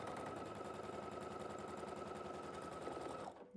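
A sewing machine running steadily while chain piecing a quilt block, a fast continuous mechanical whirr and needle rattle that winds down and stops abruptly at the end, heard alone.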